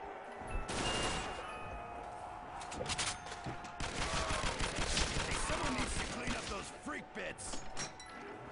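Gunfire from the World at War Nazi Zombies UGX mod, with dense, continuous bursts of shots and automatic fire layered with mechanical weapon noises throughout, loud and up close.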